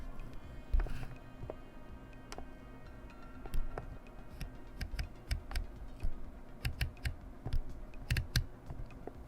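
Samyang 14mm f/2.8 lens ring turned by hand, giving a run of sharp, close detents: distinct clicks spaced irregularly, some tight and some with gaps, on a quiet background with no talk.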